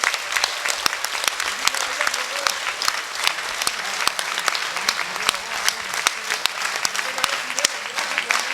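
A large audience at a Jain religious gathering claps with raised hands in sustained, dense applause, loud and close throughout, with a voice faintly heard beneath it.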